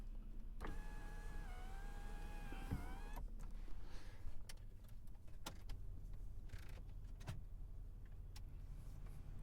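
Electric sunroof of a Toyota 4Runner running: a whining motor hum rising and slightly bending in pitch for a couple of seconds, then a clunk as it stops, followed by quiet cabin clicks and faint rattles, close and soft.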